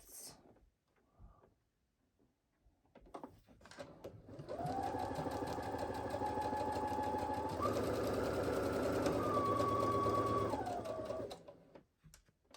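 A sewing machine runs a long, steady gathering stitch through fabric at a 3/8 seam allowance, a close, continuous whirring hum that rises slightly partway through, with brief handling sounds before it starts.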